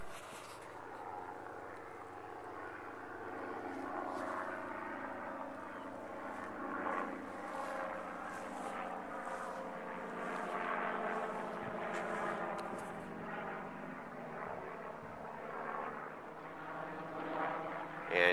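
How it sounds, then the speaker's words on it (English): A helicopter practising a 180-degree autorotation drones steadily at a distance, a continuous engine and rotor hum with slight swells over the whole stretch and a voice talking faintly in the background. "And Kenny's entered his auto rotation, maintaining his rotor RPM with the collective, making his 180 degree turn to where he gets faced into the wind"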